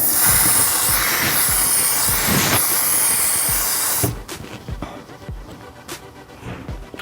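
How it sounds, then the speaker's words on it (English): A One Size setting spray hisses out in a long, steady burst for about four seconds, close and loud, then stops abruptly, leaving quiet handling noises. "You probably know about this spray."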